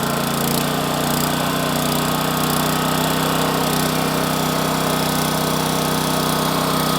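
A gasoline engine-driven impact mill rock crusher for gold ore roars steadily at full throttle, a dense, continuous mechanical drone with a rattling edge and no pauses.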